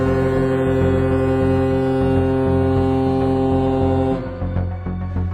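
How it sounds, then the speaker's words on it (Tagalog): Deep, loud ship horns blare in a long, steady, sustained blast during a simultaneous horn-blowing event in the Philippines, then cut off, leaving a fainter lingering drone. "10 beses na pinatunog ang mga busina ng mga barko"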